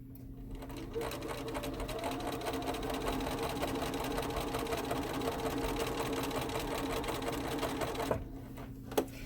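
A sewing machine runs steadily at close range while stitching a seam, a fast, even mechanical whir for several seconds, then slows and stops with a couple of clicks.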